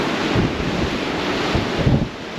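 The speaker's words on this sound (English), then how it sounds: "So it's a bit windy" Strong wind buffets the open sea from a Cunard cruise ship balcony, a loud rumbling roar with gusty low swells and steady hiss throughout.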